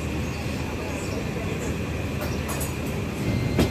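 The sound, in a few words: running train from Chittagong to Sylhet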